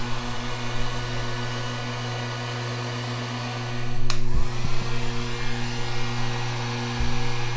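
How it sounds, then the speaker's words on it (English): A heat gun blows steadily on a clay pottery tumbler, a constant electric whir and rushing airflow with a low hum, close and uninterrupted, with a brief knock partway through. "the heat comes back out onto the heat gun, so we have to do that very carefully"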